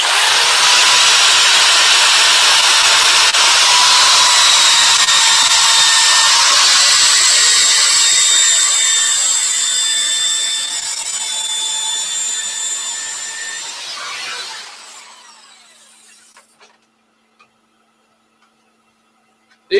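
A power sander whines loudly and steadily while finishing a wooden bowl with 240 grit, then winds down to a fading spin and falls silent near the end.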